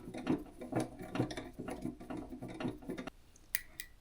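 A few screws are backed out of the casing of a Motorola XPR8400 repeater, giving a rapid ratcheting, clicking whir in steady bursts at close range, then a couple of sharp taps as the driver stops.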